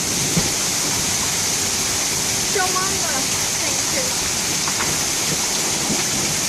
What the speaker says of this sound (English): here's the river going down the sidewalk.